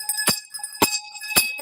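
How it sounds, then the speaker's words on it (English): Handheld bells ring in three bright, sharp strikes about half a second apart, each leaving a sustained shimmering ring between hits, close and clear with no talk. "I have all my several bells"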